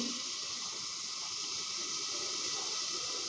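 Pot of rice water heating on a stove gives a steady, even hiss with a faint bubbling rumble underneath, unchanging and close, with no voices.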